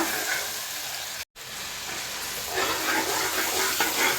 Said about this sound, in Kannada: ಅದನ್ನು ಚೆನ್ನಾಗಿ ಫ್ರೈ ಮಾಡಬೇಕು ಹಸಿ ವಾಸನೆ ಹೋಗೋ ತನಕ